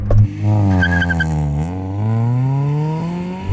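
A new Honda Prelude revs high and launches hard from a standstill with clutch slip, pitch dropping as a gear engages then climbing steadily as VTEC kicks in, loud and close.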